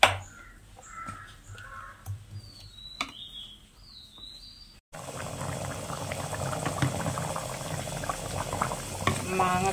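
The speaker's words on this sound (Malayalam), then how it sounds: "മാങ്ങക്കറി നല്ലോണം തിളക്കുന്നുണ്ട്." A pot of mango curry, a ripe-mango pulissery, bubbles steadily on the stove, with crows cawing outside during the first half before a louder, continuous boiling rumble takes over.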